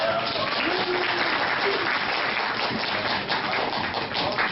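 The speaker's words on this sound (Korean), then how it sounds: "박수 한번 주세요" A small theater audience applauds after a marriage proposal, a continuous, loud wash of clapping with occasional thumps, sustained evenly throughout.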